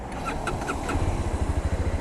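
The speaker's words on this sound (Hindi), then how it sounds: "सो इंजन को स्टार्ट करते हैं।" A Mahindra Mojo BSVI touring motorcycle engine is started: a brief starter whirr, then the engine catches and settles into a close, rhythmic idle thump.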